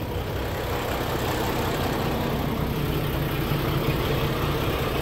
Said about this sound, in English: I hope the noise of the engine isn't too loud.